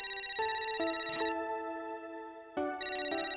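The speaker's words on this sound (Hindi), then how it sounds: "मैं एक कॉल अटेंड करता हूँ।" A phone rings with an incoming call, playing a bright, melodic electronic ringtone of rising notes that repeats after a brief pause. It is clear and alone, with no talk.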